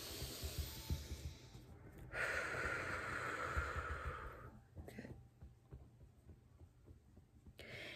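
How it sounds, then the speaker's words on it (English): A slow, deep breath drawn in during a guided tapping and yoga relaxation session, a soft, airy inhale lasting a couple of seconds and heard alone, with faint background hiss around it. "Let's take a deep breath in."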